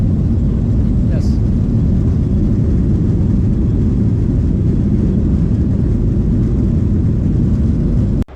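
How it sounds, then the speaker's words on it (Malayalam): A loud, steady roar of airplane engines speeding up for takeoff fills the space, a deep constant rumble heard from inside a Malaysia Airlines aircraft. "ഫ്ലൈറ്റ് സ്പീഡ് കൂട്ടാണ് സൗണ്ട് മാറി"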